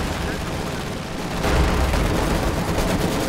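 Company of Heroes 2 battle audio plays as a dense, continuous wash of gunfire and explosions, with grenades and artillery thudding into a louder rumble partway through.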